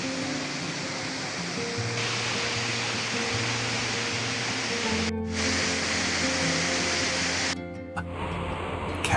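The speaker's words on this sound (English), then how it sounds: "the distant sound of the falling water will soon heighten your excitement" Manan Ella waterfall in Ratnapura tumbles down a rocky stairway of about 30 to 40 feet, giving a steady, broad rushing roar of falling water that continues evenly with only brief dips.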